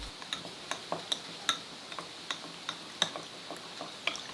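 A spoon clinks against the inside of a glass in a steady rhythm, about a dozen light bright taps while stirring potato starch into water, close and alone.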